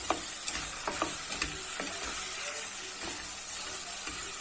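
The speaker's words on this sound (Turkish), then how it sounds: "Ara ara karıştırarak kavuruyorum." Eggplants sautéing in a pan for a Hatay-style dish, with a continuous soft sizzle and intermittent scraping clicks as a utensil stirs them, close and moderately quiet.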